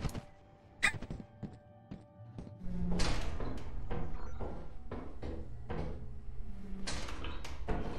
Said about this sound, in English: he tries to psych me out with the knock audio